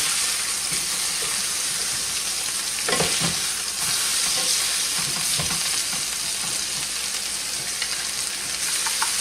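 Chicken pieces sizzling loudly in a hot copper skillet, a continuous close crackle with scattered scrapes and pops as the pieces shift, no talking.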